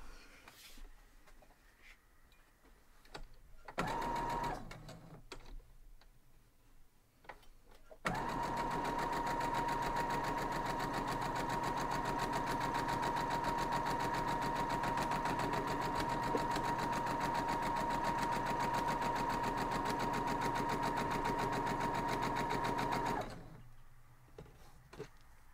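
A sewing machine stitches a quilt block, starting with a short burst, then a pause, then a long steady whirring run of about fifteen seconds before stopping, close and moderately loud in a quiet room.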